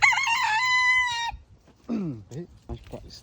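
A rooster crows close and loud with a long harmonic cock-a-doodle-doo, then a voice follows in short bursts of talk.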